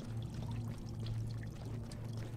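Water gushing from a burst pipe in a video game, a steady close pouring rush that stays loud and continuous with no voices.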